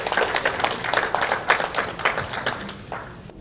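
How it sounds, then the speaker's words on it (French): An audience applauds at an opening ceremony in Benin, steady dense clapping from a crowd in a hall, moderately loud and continuous throughout. "Sous vos applaudissements, s'il vous plaît."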